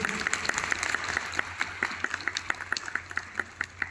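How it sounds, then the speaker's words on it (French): Audience applause at a convention talk with a manga artist, scattered claps thinning out with a few louder distinct hand claps standing out, mid-distance in a hall. "Applaudissements, s'il vous plaît."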